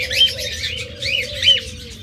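Pet breeding-pair birds chirp in short repeated bursts close by, with a steady low hum running underneath.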